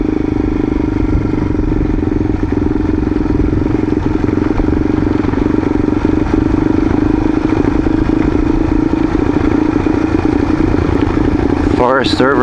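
A motorcycle rides along a rural mountain road, its engine drone steady and close throughout, with a brief rising whine near the end.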